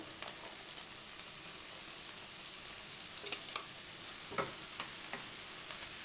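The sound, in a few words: vegetables frying and stirred in pan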